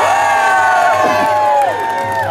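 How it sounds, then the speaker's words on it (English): A loud crowd cheers, whoops and screams continuously at the opening day launch of the Tiger Rock ride, Land of the Tiger, at Chessington World of Adventures theme park. "I want to hear you scream and shout as loud as you can."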